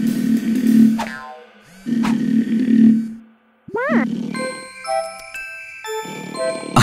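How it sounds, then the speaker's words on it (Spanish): Cartoon sleepy bird snoring in exaggerated comic bursts, each long rumbling snore followed by a whistle-like tone, then playful jingling and chiming effects, loud and close with no talk. "Son los ronquidos del pájaro dormilón."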